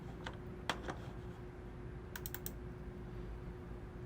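Typing on a computer keyboard while entering a report in a firehouse training program, two short clusters of crisp keystrokes over a steady low electronic hum, close and fairly quiet, with no talking.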